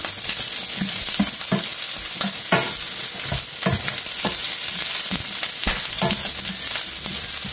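Onions sauté in a pan with a loud, close, continuous sizzle. Repeated scraping and tapping from a spoon stirring runs through it, and no one speaks.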